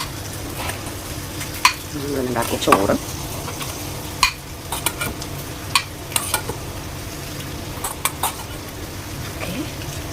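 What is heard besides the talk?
fish frying tawa style in a pan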